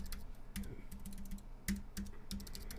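Quick bursts of typing on a computer keyboard while coding HTML and CSS, close and clicky, with uneven clusters of keystrokes over a low background hum.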